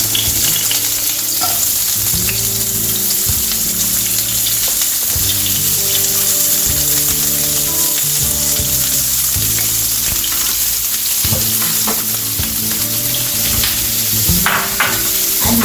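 Onion sizzling in vegetable oil in a hot pan while making vegetable instant noodles, a loud, steady crackling fry with occasional stirring scrapes, close up and continuous, with a faint background tune.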